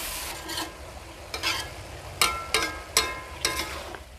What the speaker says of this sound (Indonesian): Langsung kita aduk-aduk.